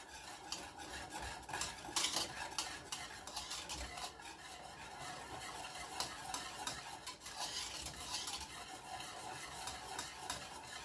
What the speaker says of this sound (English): I am going to whisk this together